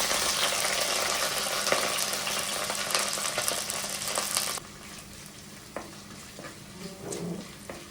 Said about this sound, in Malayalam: ആദ്യം കുറച്ച് വെളിച്ചെണ്ണ ഒഴിച്ച് ചെറുതായി അരിഞ്ഞു വെച്ചിരിക്കുന്ന ഇഞ്ചിയും വെളുത്തുള്ളിയും കുറച്ച് കറിവേപ്പിലയും വറ്റൽമുളകും ചേർത്ത് നന്നായിട്ടൊന്ന് വഴറ്റിയെടുക്കാം